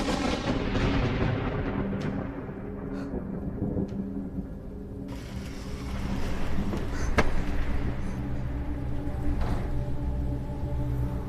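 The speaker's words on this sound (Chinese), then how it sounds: "总是打雷下雨，这样的鬼天气" Thunder rumbles through steady rain in loud, continuous weather noise, with a sharp crack near the middle and low rolling booms throughout, no talking.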